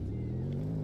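A car engine pulling away at a car meet in Southwest Florida, a steady low motor drone that rises slightly in pitch as it accelerates, close and fairly loud for a brief moment.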